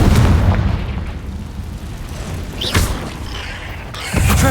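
Fiery Confringo blasting spell explosions in the video game Hogwarts Legacy, set in a cave: a loud low boom at the start, a sharp burst near the middle, and another heavy blast at the end, with rumble between.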